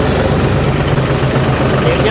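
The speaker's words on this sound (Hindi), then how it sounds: "पूरा ही ट्रैक्टर भगा रहे हैं" A tractor engine runs steadily and loudly while hauling in a paddy field on the last day of the rice harvest, with people talking over the continuous rumble.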